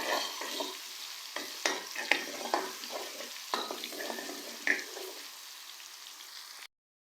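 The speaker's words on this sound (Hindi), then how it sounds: "अदरक लहसुन के पेस्ट को हम लोग 1 मिनट तक प्याज के साथ फ्राई करेंगे।" Close sizzling of ginger-garlic paste and onions frying in a pan, broken by repeated scraping and tapping of a spoon stirring; no speech.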